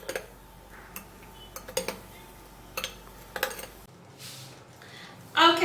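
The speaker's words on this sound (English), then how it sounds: "and give it a good stir." Spoon stirring a small mixture in a bowl, a few sharp clinks and taps scattered at irregular intervals, close and fairly quiet, with a soft rustle near the end.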